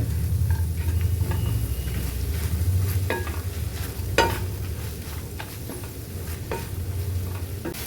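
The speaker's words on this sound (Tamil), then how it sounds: "ஒரு பத்து நிமிஷம் நல்லா வதங்கட்டும்" Mint (pudhina) leaves sauté in a pan for a thuvaiyal chutney, giving a steady soft sizzle with occasional stirring scrapes and light utensil taps throughout, close and moderately loud.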